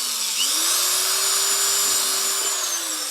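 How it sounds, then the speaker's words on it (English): A hand-held power drill bores holes into black plastic drain pipe for a scabbard, a loud steady motor whine with a pitch shift as the bit bites, continuous throughout. "if I do it on my pillar drill, I can't actually see where I'm drilling, so I have to just do it by hand"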